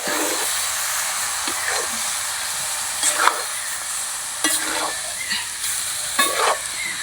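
Chicken pieces roasting dry in a pan with salt and turmeric and no water, a continuous sizzle and hiss broken by several scraping stirs at a regular pace, close and moderately loud with no talk.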